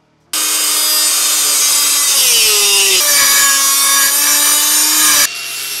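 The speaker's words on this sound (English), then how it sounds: "For this, I'm using a 3-inch electric cutoff tool." A 3-inch electric cutoff tool cuts scale-model chassis tubes, starting with a loud, continuous high-pitched whine whose pitch dips as the disc bites, then cutting off abruptly near the end.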